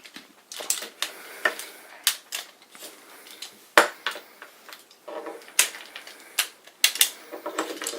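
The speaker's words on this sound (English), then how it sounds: "let's just go ahead and get the battery in arm position and fold the legs and arms up" Plastic clicks and snaps from the DX Kyoryuger robot toy as its legs and arms fold into position, a rapid irregular series of sharp close ratchety clicks with no talking.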